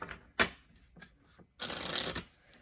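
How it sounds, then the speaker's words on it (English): A few soft flicks and taps of Island Time Wellness Oracle deck cards, then a quick riffling shuffle, close and quiet. "Let's do one little shuffle before we get the messages here."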